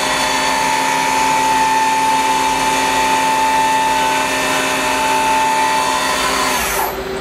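Yama Seiki SW 32 CNC Swiss lathe sub-spindle spinning at 4000 RPM, heard from about three inches away: a steady, quiet machine whine with sustained tonal hum, running evenly throughout and easing off briefly near the end.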